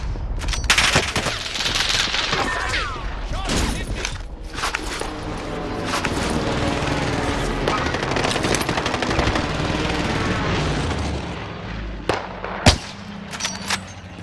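Sustained machine gun fire rattles through a video game, dense and loud for most of the stretch, with a few sharp isolated shots near the end.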